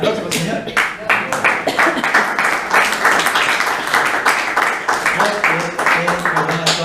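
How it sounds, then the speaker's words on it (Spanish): Church congregation applauding during a Spanish-language worship service, a steady wash of dense clapping that runs the whole stretch, fairly loud and close, with voices calling out beneath it. "Un aplauso al Señor."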